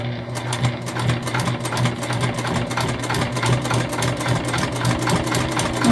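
A sewing machine stitches a bag with a steady, rapid mechanical whir and rhythmic needle thumps, close and continuous without a break.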